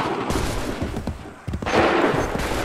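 Massed musket volley in Assassin's Creed III, a loud crackling burst that swells, dips briefly, then surges again as dense sustained gunfire.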